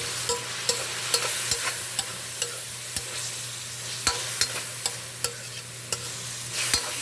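Chicken liver frying for pancit guisado: a steady low sizzle under repeated sharp clicks and taps of a utensil stirring against the pan, close by, with no talk.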